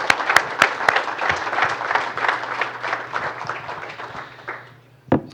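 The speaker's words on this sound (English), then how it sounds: "Let's give them a round of applause" Audience applause for panelists at a workforce and apprenticeship presentation, a few sharp claps at first swelling into a steady round of clapping that thins out, ending with one last louder clap.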